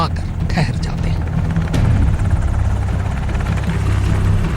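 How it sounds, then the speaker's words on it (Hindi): Two helicopters hover over a compound in Abbottabad at night, a loud, close rotor chop and turbine whine droning continuously with a few sharp knocks near the start. "2 हेलीकॉप्टर एबटाबाद की इस गुमनाम हवेली के ऊपर आकर ठहर जाते हैं"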